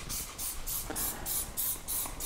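Wheel cleaner foam sprays onto a car wheel in quick repeated hissing bursts, about seven evenly spaced pumps, close and fairly loud.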